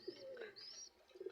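A feather-footed pigeon, its feet lightly feathered, coos softly in short calls near the start and again at the end, with faint chirps between and no talking.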